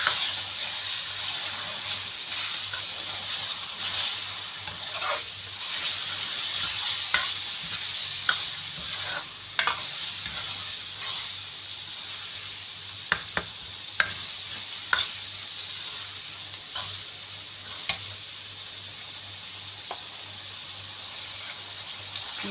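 Minced meat (keema) fries with yogurt in a pan, a steady sizzle running throughout while a spoon stirs and scrapes, giving occasional sharp clinks against the cookware; no one speaks.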